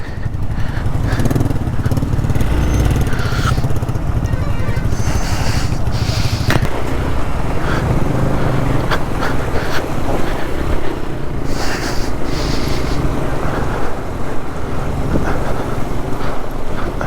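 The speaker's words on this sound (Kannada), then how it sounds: "Water crossing." A motorcycle engine drones steadily while crossing icy water on a mountain road near Baralacha Pass, loud and close with heavy wind buffeting throughout.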